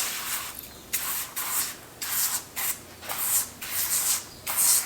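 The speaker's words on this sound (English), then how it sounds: "I'm going to use the spray can one on this one" A spray can of Super Clean cleaner hisses in a series of about six short, close bursts at a steady rhythm, each lasting under a second with brief gaps between them.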